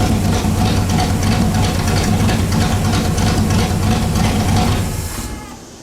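A Pontiac Bonneville engine with a failed alternator belt runs loud and steady close by for about five seconds, then is switched off and the rumble dies away.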